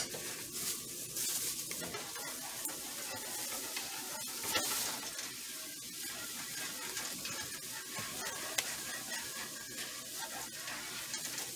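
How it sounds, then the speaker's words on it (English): Flour being stirred into red chile sauce for tamales, a steady wet scraping and swishing that runs the whole time at an even, moderate level, with a faint sizzle under it. "Keep on stirring it para que no se haga este clump."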